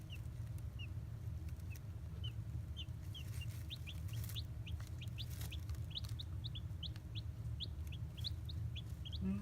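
Baby chicks in a brooder chirp in quick, high, repeated peeps that grow busier partway through, over a low steady hum.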